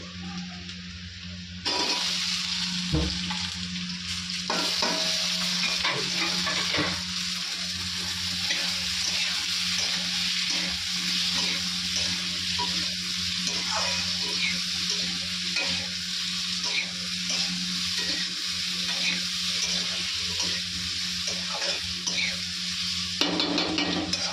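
Onion and green chili fry in hot oil for an egg curry, giving a loud, continuous close-up sizzle that holds steady for over twenty seconds, with a few brief clinks from the pan and no talking.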